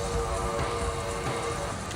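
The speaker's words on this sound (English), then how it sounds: "When I woke up, it had already started raining" Steady rain from the Umineko visual novel set on Rokkenjima: continuous dense patter of falling rain with a low rumbling undertone, even and fairly loud throughout, no voices.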